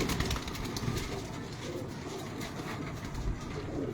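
Pigeons cooing softly in a loft in Multan, low repeated coos under a busy background hum, fairly faint and continuous throughout.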